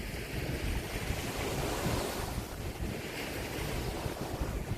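Surf rolls in continuously at Jomtien Beach, with strong wind buffeting the microphone and a constant roar of breaking waves close by; no one speaks.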